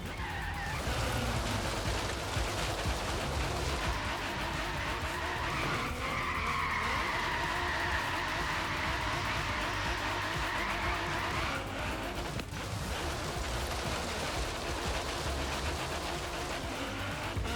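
Nissan GT-R in Forza Horizon 3 sliding through corners, with steady engine drone and a sustained tire squeal mid-run over continuous road noise, moderately loud, without speech.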